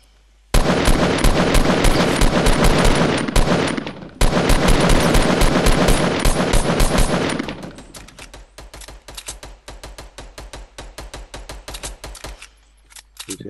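Rapid automatic gunfire from the video game Fortnite rattles loud and continuous for several seconds, then thins into scattered, quieter bursts and single shots.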